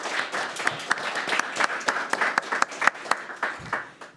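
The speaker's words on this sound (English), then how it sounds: "A round of applause, please." Audience applause at a Democratic Town Committee candidates forum, a modest crowd clapping steadily with distinct individual claps standing out, fairly close.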